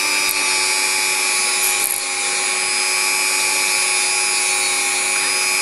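Steady high-pitched rotary tool whine polishes a Hornby model locomotive power bogie, running continuously and close without pause.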